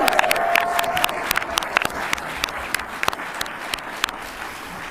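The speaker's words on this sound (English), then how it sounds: "Give yourself a round of applause" Live audience applause and cheering at a podcast recording, a dense wash of clapping with sharp individual claps standing out, loud and close, continuing steadily throughout.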